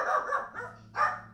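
A puppy in the video game Batman The Enemy Within lets out a few quick, high yapping barks in short bursts, close and fairly loud with no talk over them.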